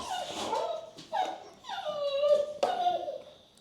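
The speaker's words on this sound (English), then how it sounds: "The dogs." Several indoor dogs whimper and yip in a quick series of high, whining cries, close and fairly clear, without talk.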